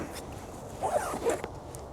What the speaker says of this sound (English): Go ahead and zip this back up.